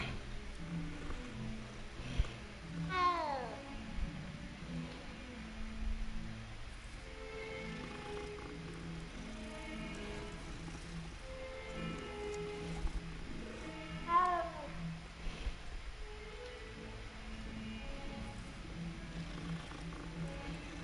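A cat in the video game Hogwarts Legacy meows a few times, faint against a soft, steady game soundscape over about twenty seconds.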